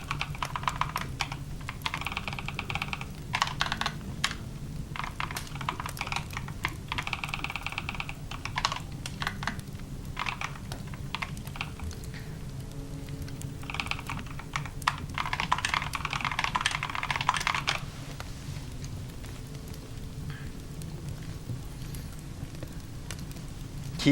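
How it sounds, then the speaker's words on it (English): A computer keyboard being typed on, steady close clicking keystrokes in irregular bursts and flurries with brief pauses, alone with no talking. "Keyboard tippy taps are more about rhythm than sound, to be honest."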